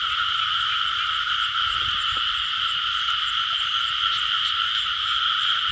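Frogs croak after heavy rain in the western region of Vietnam, a loud, dense, continuous chorus of high-pitched calls holding steady throughout, with faint low rustling beneath.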